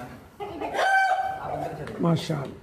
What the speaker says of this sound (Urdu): اچھا یہ جو اس کی آواز ہے اس کو کہتے ہیں عموماً مرغے کی اذان